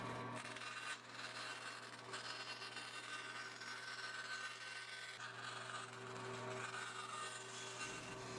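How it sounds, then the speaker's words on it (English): Wood being sawn to split a thin headstock facing for a scratch-built guitar neck, a steady continuous rasping cut running throughout at close range, with no talk. "now I'm going to split it down so that it's thin enough to be a facing for the headstock"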